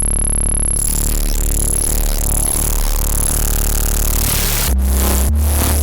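FM feedback-loop synth tone built in FM8, a dense buzzing, shifting electronic texture that churns continuously, then breaks into abrupt stuttering low drones near the end, loud and with no voice.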